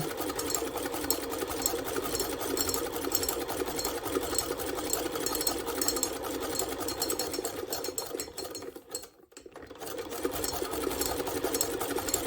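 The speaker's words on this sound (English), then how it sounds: "I just love using this hand crank machine." A hand crank sewing machine stitches fabric strips for a string-pieced quilt, giving a close, steady rhythmic clatter that pauses briefly before starting up again.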